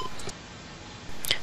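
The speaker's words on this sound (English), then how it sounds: "To bypass the windows, enter your security code, followed by 6, then the pound sign." A few short electronic tones from a Vista 20P alarm keypad chirp, two quick ones at the start and another near the end, over a faint hum.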